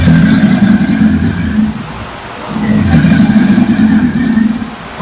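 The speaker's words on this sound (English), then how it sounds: "That is a bull alligator doing a territorial display." A bull alligator bellows in a territorial display, two long, loud, deep rumbling roars separated by a brief lull, close and dominant.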